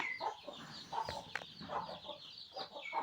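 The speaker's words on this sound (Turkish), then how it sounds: "abim tavuk, tavuk sanırım bu. Tavuk yakaladı" Chickens cluck and chatter in short repeated bursts, fairly faint, with a few soft knocks in between and no speech.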